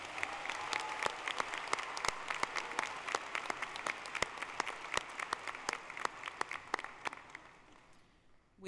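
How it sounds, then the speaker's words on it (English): Sustained applause from a high school commencement audience, many hands clapping steadily for several seconds before fading out near the end. "Have a round of applause for all five of our student speakers,"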